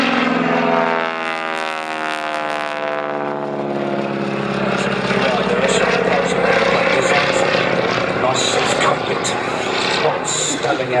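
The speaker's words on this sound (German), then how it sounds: "wenn Mercedes mit seiner Steerman wieder vorbeikommt." A Stearman biplane's propeller engine drones loudly as it flies past during a wing-walking display, holding a steady roar throughout, with voices talking over it.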